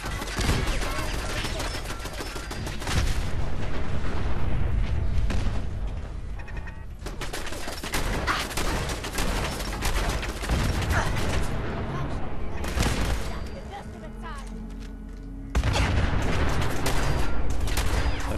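Explosions and gunfire in the Fallout 4 video game come as loud, dense bursts of booming blasts and rattling shots that cut in and out in several sections, with brief quieter gaps between.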